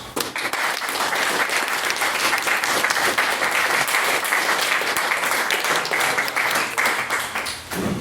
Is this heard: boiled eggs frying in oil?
no